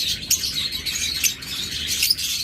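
Farm-raised pet birds kept for sale chirp and tweet continuously in high, bright calls, with a few louder peeps over a steady background chatter.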